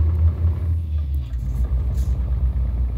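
A heavy truck engine with a Kurt exhaust in Euro Truck Simulator 2, West Balkans map, rumbling with a deep, steady low drone that stays loud and close the whole time, no voices over it.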